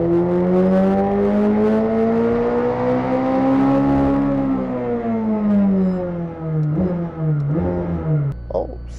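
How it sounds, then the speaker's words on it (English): A McLaren 765LT engine at open throttle on a dyno pull, a loud sustained rising roar with strong harmonics that climbs steadily and then drops with shift-like dips near the end. "Open throttle, and boom, start the pull."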